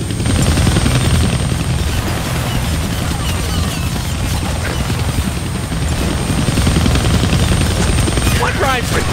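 A helicopter in the Deadpool video game, a loud continuous rotor thrum that fills the whole stretch with dense mechanical roar and scattered crackling impacts, under a voice talking.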